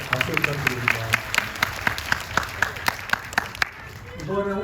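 A movie talk-event audience claps, with distinct, rhythmic claps standing out above the crowd for about four seconds before the applause trails off and a voice begins speaking.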